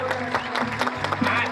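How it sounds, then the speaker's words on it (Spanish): An audience claps briefly at a rural women's tribute event. Scattered clapping blends with crowd noise and a voice speaking over it. "Recibe el aplauso, vamos."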